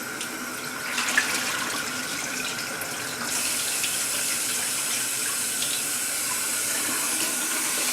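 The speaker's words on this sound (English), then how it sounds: "you always wash your rice" Rice is rinsed under a running kitchen tap for a Japanese-style red beans and rice dish: a steady, close rush of water that swells louder about halfway through and carries on without pause.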